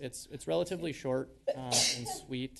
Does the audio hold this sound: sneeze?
yes